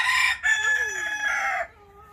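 A single rooster crows loudly and close by, a drawn-out cock-a-doodle-doo lasting over a second before fading.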